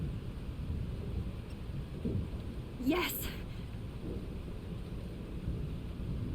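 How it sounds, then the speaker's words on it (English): A thunderstorm in the video game Life is Strange, with steady rain and wind hiss under a single rolling thunder crack midway, while a voice speaks briefly over it. "This storm is real."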